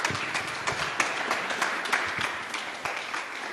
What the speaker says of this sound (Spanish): Dele palmas a Jesús.